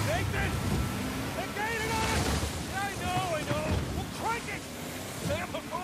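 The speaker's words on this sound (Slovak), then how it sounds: "Wow, troška vlny." Ocean waves surge and wash around a boat at sea in the Uncharted 4 video game, a steady roar of water and wind, while someone talks and gasps over it.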